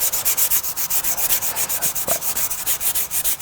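Sandpaper rubs back and forth over a scratched wooden interior window sill in quick, even strokes, a close, loud, rhythmic scratchy swish with no talk.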